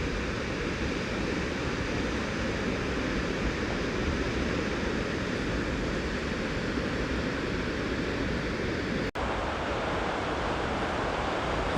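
Gaganachukki waterfall at Shivanasamudra sends up a constant broadband roar of falling water, even and unbroken apart from one sharp click near the end, with no voices.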